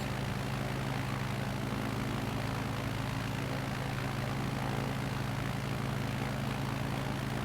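Steady, loud drone of a small propeller airplane engine cruising at about 10,000 feet over a mountain lake, continuous and close throughout with no talking.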